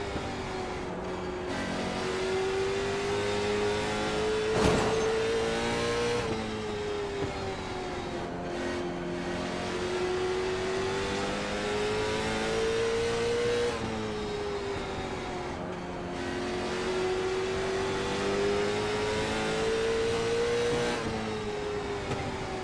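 A NASCAR race car engine at Michigan in a racing video game, droning steadily with long rising and falling pitch sweeps as it accelerates and lifts through laps, loud and continuous with no talk.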